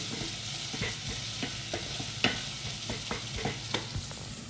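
Dal sizzling and simmering in a pan on medium-high heat, with a steady close hiss broken by the repeated scrape and knock of a spoon stirring every half second or so.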